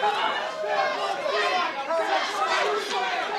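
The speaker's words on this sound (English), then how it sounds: "And listen to the crowd." Wrestling crowd roaring and chattering after a near fall in a women's match, a dense, loud, sustained wash of many voices swelling and dipping together.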